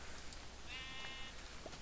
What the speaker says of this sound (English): Punch that sheep.